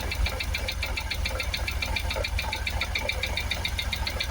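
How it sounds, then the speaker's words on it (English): A supercharged Jaguar XKR engine idles rough and misfires, a continuous uneven knocking pulse with a rapid ticking rhythm and supercharger noise above it, close and steady. "Got a bit of noise from the supercharger. It's definitely not running on 8 cylinders."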